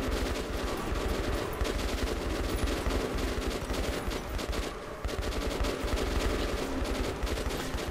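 Rangers firing in Metro 2033 produce sustained, dense automatic gunfire, a continuous loud barrage of overlapping bursts filling the whole stretch with no clear pauses.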